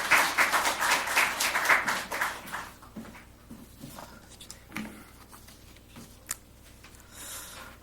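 A church congregation at a Korean Sunday Thanksgiving service claps in welcome, a full round of applause that lasts about three seconds before thinning into scattered claps and quiet room noise.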